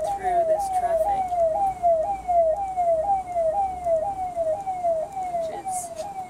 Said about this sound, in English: So that's an ambulance trying to get through this traffic.